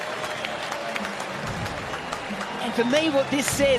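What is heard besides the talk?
crowd cheering at T20 cricket match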